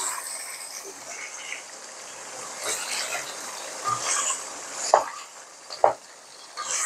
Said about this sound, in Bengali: এই যে আমি এটা এখন চড়িয়ে দিচ্ছি, মোটামুটি অল্প জালে এটা হতে থাকবে